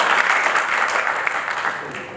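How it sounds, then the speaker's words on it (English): High school audience applause for a stage performance, a steady dense clapping of many hands, fairly loud and even, gradually tapering slightly by the end. "A big clap for this interface. I say clap."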